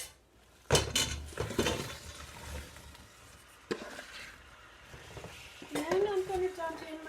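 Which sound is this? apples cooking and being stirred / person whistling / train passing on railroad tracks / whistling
apples cooking and being stirred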